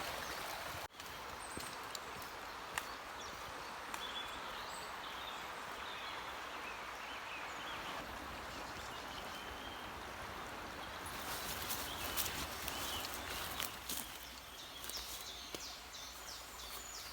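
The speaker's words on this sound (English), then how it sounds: "There's a nice little stream just there, which I could use for water." A small woodland stream flows with a soft, steady trickling wash, fairly faint, and an occasional bird call comes from nearby.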